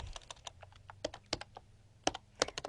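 Rapid, uneven keystrokes on a computer keyboard while writing a MySQL query, close and fairly quiet, in short bursts with brief pauses and no voices.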